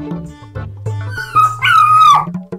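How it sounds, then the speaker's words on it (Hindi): A dog whines and yips close by, starting with low grumbling tones and rising into a long, high-pitched whimper that fades away. "कोई असली कुत्ता होगा बाहर का।"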